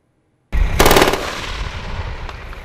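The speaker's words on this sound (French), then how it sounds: "Démonstration de tir télé opérée au canon de 20 mm et de 7 mm 62" A military live-fire demonstration of remote-operated 20 mm cannon and 7.62 mm guns on armored vehicles, heard as a sudden loud burst of automatic fire with a sharp opening crack followed by a long rolling echo.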